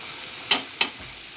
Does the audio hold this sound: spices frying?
yes